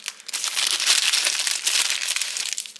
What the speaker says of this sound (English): you can go ahead and open your ramen